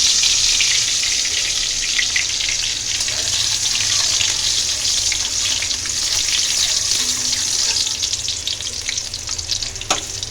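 Garlic frying in a pan for a Bengali-style dish, a steady close sizzle that runs throughout, with faint stirring and a brief clink near the end.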